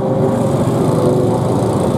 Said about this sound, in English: heat number two of the 100cc two-stroke seniors as they all head out onto the track